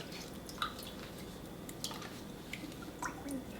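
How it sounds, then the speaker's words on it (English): Salted eggplant slices are rinsed under cold water, giving a soft, steady running-water wash broken by a few faint drips and squishy splashes, close and quiet with no speech. "So now we're gonna rinse them with the cold water"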